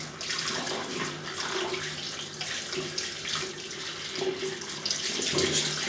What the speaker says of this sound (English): So just filling it with the water